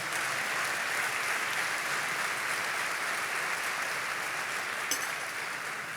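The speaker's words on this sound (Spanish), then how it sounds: "Dele palmas al Señor por eso." Church congregation applauding steadily and loudly throughout, a dense wash of hand claps with no gaps.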